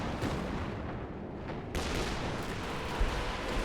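Sustained lead barrage of gunfire in Company of Heroes 2, a steady, distant-sounding roar of shots and bursts with a sharper crack near the end, no voices.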